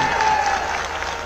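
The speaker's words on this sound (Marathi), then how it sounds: "इथे तुमचं पण वाशिमवाल्यांना जोरदार टाळ्या वाजवा" A large crowd at a political rally in Washim claps loudly and steadily. The dense, continuous applause fills the whole moment without a break.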